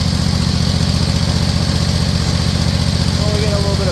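Zero-turn riding mower after an engine swap, its engine running steadily with a loud, rough, pulsing idle that continues unbroken, a faint whine appearing near the end, no voices.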